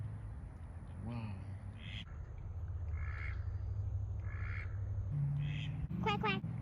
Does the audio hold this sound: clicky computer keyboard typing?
no